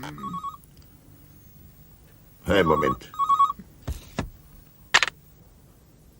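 A telephone bell rings in short repeated bursts inside a cartoon fire station, with voices talking around and between the rings.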